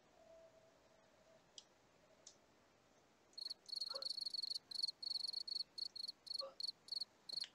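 Cricket chirping sound effect, starting after a quiet hiss with a few faint clicks, then a rapid run of bright, evenly pulsed chirps in short bursts, fairly faint but clear and alone.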